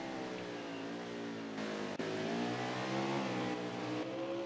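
Race car engines running side by side at Mid-Ohio, a sustained high revving drone with layered engine tones rising in pitch, steady and fairly loud, with a brief sharp click partway through.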